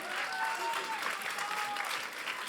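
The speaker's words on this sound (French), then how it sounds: "Vous pouvez les applaudir encore une fois." Audience at a local television awards ceremony in Morbihan, France, bursts into a warm, full round of applause just after a live music performance, with faint tonal sounds lingering beneath the clapping.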